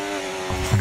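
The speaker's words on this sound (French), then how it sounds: "Les moteurs, ils ont l'air vraiment étouffés." An F1 car engine in a racing video game hums as a steady, muffled drone with layered harmonics, then shifts at the end into a rougher, rising roar.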